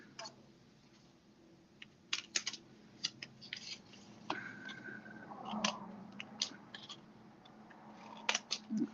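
Scissors snipping out the corners of a paper wedding cake gatefold card, a string of crisp irregular cuts and paper rustles, close and quiet, with no speech.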